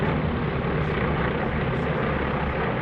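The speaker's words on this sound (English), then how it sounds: "watch the airplanes get into the traffic pattern with that very disciplined overhead brake" Warbird airplanes fly overhead at the EAA AirVenture 2019 airshow, giving a loud, steady propeller-engine drone with a broad rumbling roar and no voices.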